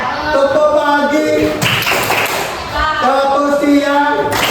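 A classroom of students clapping along to a rhythmic clapping chant, a few quick claps mixed into loud group voices chanting and talking, the voices dominating over the claps.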